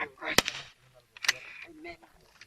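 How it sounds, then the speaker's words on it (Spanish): Shotguns fired by young community police members in the mountains of Guerrero, two sharp cracks about a second apart, each followed by a short echo, heard from a distance. "Ahí los vimos disparando sus escopetas."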